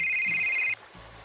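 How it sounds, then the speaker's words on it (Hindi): A phone rings with a bright, sustained electronic tone that cuts off abruptly after under a second, loud and close, followed by low background hum. "तुम्हारा फोन बज रहा है"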